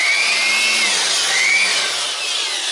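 A powerful electric air blower bought for cleaning dust out of a Cooler Master ATCS 840 PC case runs with a loud, steady, high-pitched whine and slight pitch wavers, with no talking.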